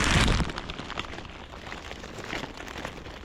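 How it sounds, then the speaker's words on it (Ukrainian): Heavy downpour during a carp fishing trip, a dense steady hiss of rain with a brief louder burst at the start, close and continuous with no voices. "Дощ лє, а ми на риболовлі з вами."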